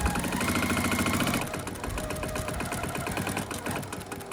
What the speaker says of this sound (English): we're gonna start sewing on the line between A3,